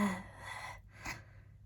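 A singer's breath catches in a short gasp, a hitch in the exhale heard within a song, close and breathy, lasting only a moment before easing off.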